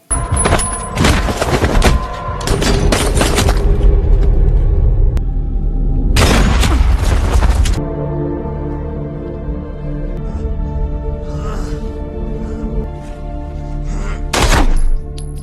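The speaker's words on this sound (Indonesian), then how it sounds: "James langsung menembak Rusty tepat di kepalanya" Gunshots in an action film, loud booming blasts and rumbling bursts in clusters, with a quieter stretch between the heavy impacts.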